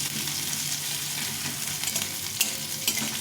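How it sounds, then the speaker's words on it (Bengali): Chopped onions fry lightly in a hot pan with oil, a steady loud sizzle running throughout, broken by a few soft scrapes of stirring. "পেঁয়াজটাকে অল্প ভাজবো, খুব একটা বেশি ভাজবো না, হালকা করে একটু ভেজে নেব"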